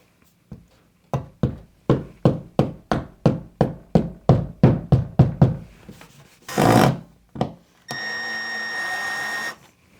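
Wall anchors hammered into a wall with a rapid, even series of about fifteen sharp, close knocks, followed by a short rasping burst, a single knock and then a steady whirring drill-like hum.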